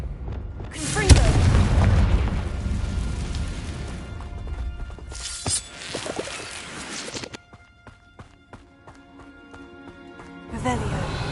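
A Confringo spell explosion in the Hogwarts Legacy video game bursts loudly with a booming crash, then fades into rumbling game sounds while a voice speaks over it.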